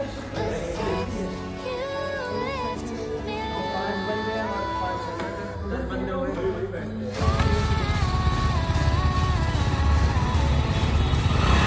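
Triumph Rocket 2500cc motorcycle engine droning steadily on a road ride, with a shifting pitch and a sudden rise in loudness and wind roar partway through.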